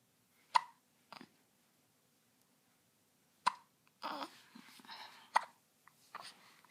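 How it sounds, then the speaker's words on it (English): A baby hiccups in short, sharp, isolated bursts spaced a few seconds apart in a quiet early-morning room, followed by soft breathy sounds and faint rustling close to the microphone. "Hiccups."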